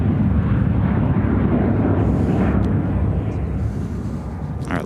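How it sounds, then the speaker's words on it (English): A United Airlines 737-700 roars down the runway on its takeoff roll at Chicago O'Hare, a loud, broad jet rumble that holds steady and then slowly eases as it climbs away. "This is United Airlines 2282 taking off to Traverse City on the"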